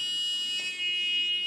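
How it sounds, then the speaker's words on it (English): The buzzer of a GSM-based fire alarm system built on an ATmega32 sounds as a continuous high-pitched electronic tone, steady and close, with a faint brief disturbance partway through. "Well, the buzzer has been on"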